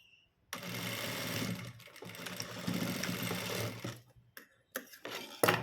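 A sewing machine runs steadily while stitching a blouse, its motor whirring close and loud for several seconds before stopping, followed by a few brief clicks and knocks of handling.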